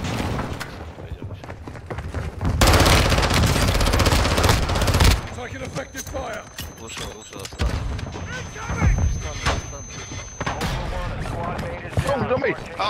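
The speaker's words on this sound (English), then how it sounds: "You are taking effective fire." Video game gunfire in a combat match, with heavy bursts of rapid shots and booming impacts swelling and fading under radio chatter and spoken voices.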